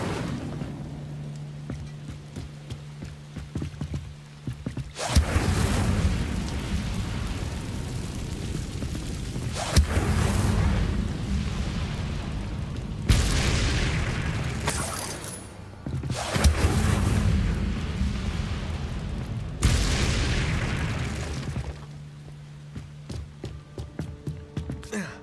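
Incendio fire spells blast in Hogwarts Legacy, heavy booming bursts of roaring flame that surge and cut off several times over sustained rumbling game noise, loud and near.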